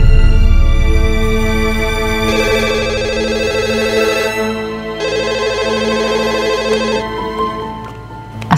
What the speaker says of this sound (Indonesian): bagaimana kalau Rehan menelpon ke HP itu dan diangkat sama Abah